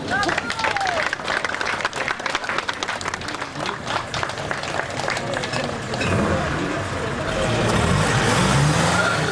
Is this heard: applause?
yes